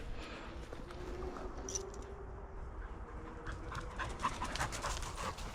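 Dogs panting close by as they run back during outdoor spaniel-style retrieve training, steady breathy panting over a continuous low rumble of wind or movement, with no talking.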